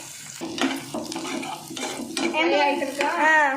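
Chicken frying in a pan for chilli chicken gravy, a soft sizzle with scraping stirs close by, while a voice talks over it in the later part.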